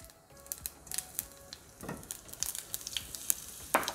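Cumin, mustard seeds and asafoetida crackle in hot oil for a tempering. Sharp, scattered pops sound at close range over a low, soft sizzle, irregular and fairly quiet.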